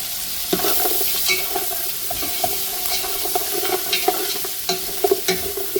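Onions sautéing for chicken curry, a steady close sizzle and frying crackle filling the pan, with light scraping stirs and a few sharper taps near the end, no voices.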